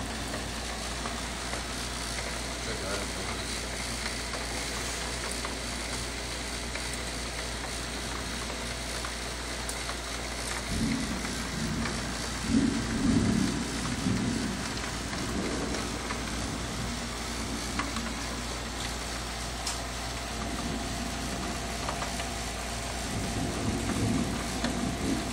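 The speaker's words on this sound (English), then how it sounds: "It's raining too hard" Steady, dense hiss of heavy rain pouring continuously, with a low rumble underneath and no voices.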